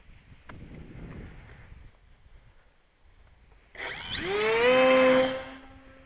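The electric motor of a Pug ELG RC micro ALES glider spins up with a rising whine, holds a loud steady buzzing tone for about two seconds outdoors in wind, and then cuts off.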